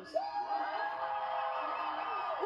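Political rally crowd in Nevada cheering for Jennifer Lopez, a sustained loud roar of whoops and yells from many people, slightly distant and continuous.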